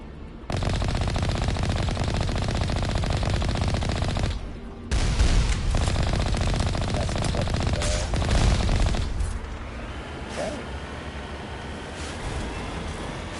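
Sustained turret machine gun fire in the Mass Effect video game, loud and continuous rapid bursts over most of the span, easing into quieter rumbling near the end.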